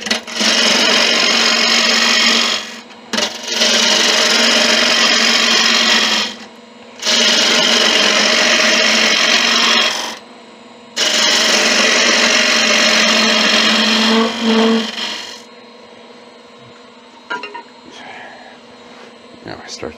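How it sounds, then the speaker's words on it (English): Ball gouge cutting very hard wood on a lathe while turning a Christmas angel figure, loud broadband scraping and hissing in four long passes separated by short pauses, then quieter workshop noises afterward. "This wood is very hard. I think I'll use a ball gouge for this,"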